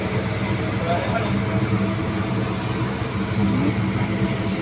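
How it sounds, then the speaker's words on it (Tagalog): Airplane engine roar, a steady broad rushing noise heard outdoors that holds throughout without fading. "mapanood natin maganda paglipad ng aeroplano"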